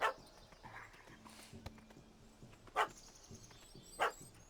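Puppy in The Witcher 3 video game gives three short, sharp barks spaced apart over a quiet outdoor ambience.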